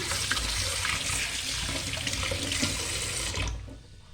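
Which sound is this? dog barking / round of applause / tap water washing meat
tap water washing meat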